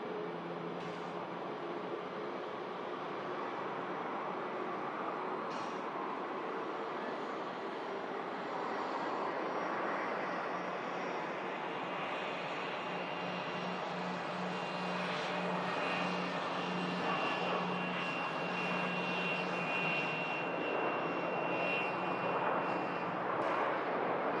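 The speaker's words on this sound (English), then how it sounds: "Landing in from Dublin. Aer Lingus A320 next." An Aer Lingus A320 airliner lands at Manchester Airport, its jet engines giving a continuous broad roar that holds steady and swells slightly toward the end, heard from a distance with no other sounds on top.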